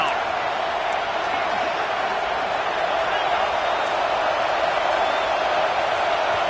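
A football stadium crowd roars loudly and continuously on third down, a dense unbroken wall of cheering that holds steady throughout.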